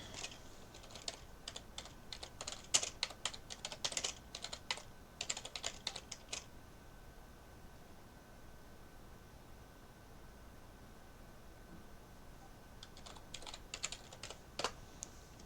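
Someone types on a computer keyboard in quick bursts of soft clicks, pausing for several seconds before resuming, against a faint steady hiss.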